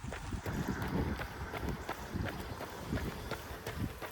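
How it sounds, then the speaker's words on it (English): Strong outdoor wind buffets a microphone during a run, producing a loud, rumbling roar with uneven gusts and rhythmic thumps throughout. "It's really windy, so I hope that you can hear me"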